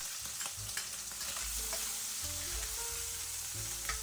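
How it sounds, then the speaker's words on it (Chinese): Ginger and garlic hit hot oil in a wok and sizzle steadily, a close, even frying hiss with faint scraping and stirring, no talking. "接下来把姜和蒜下锅"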